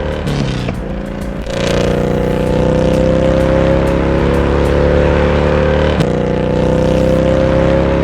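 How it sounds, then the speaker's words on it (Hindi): A motorcycle engine catches and settles into a steady, loud rumbling idle, with a brief rev near the start and a clunk later on. "घोस्ट राइडर अपनी बाइक स्टार्ट करता है और बाबा द्वारा बताई गई जगह की ओर निकल पड़ता है।"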